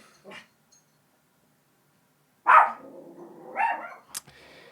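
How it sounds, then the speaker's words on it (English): A dog barks a few scattered times in an otherwise quiet room, with one faint early yip and then two louder, close barks a second apart. "She's barking."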